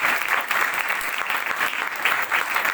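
A congregation at a live worship service claps steadily, a dense and loud burst of applause lasting a few seconds with no break.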